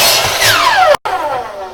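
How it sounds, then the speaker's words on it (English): A power saw blade cuts timber for box walls, a loud close whine that falls in pitch as it bites, stops abruptly, then resumes and winds down. "just slide it across so it just touches the saw blade gently"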